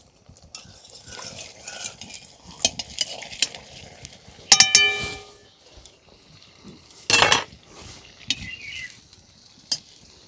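A spatula's back scrapes a mango-stuffed malpua loose from a frying pan, giving intermittent metallic scrapes and clinks with a couple of sharper clanks, close and moderately loud.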